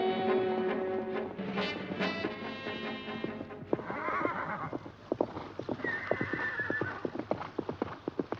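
A horse in a riding race whinnies loudly at first, then its hooves clip-clop in quick, uneven beats that grow sharper toward the end, without speech.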